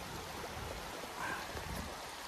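Fast, clear stream water rushes through Cutthroat Canyon in a steady, soft, even wash with no breaks, fairly quiet throughout.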